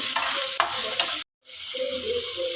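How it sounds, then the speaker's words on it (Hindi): Spice mixture with tikka masala and salt being stirred in a pan, a steady scraping hiss with a few spoon knocks, broken by a brief silent gap before the stirring resumes. "अभी सब चीज़ों को अच्छी तरह से मिक्स करेंगे।"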